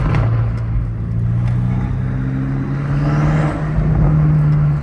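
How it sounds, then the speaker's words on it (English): BMW M5 Competition engine with turbos, a loud steady drone with rising whine and rumble, continuous and close for the whole stretch with no voices. "just like the turbo noise is crazy over here"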